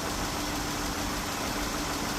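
The 3.6 engine of a 2017 Dodge Charger idles at its first start after an engine replacement, a steady, even hum that stays constant and fairly close throughout, with no speech.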